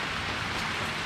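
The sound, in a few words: heavy rain from a typhoon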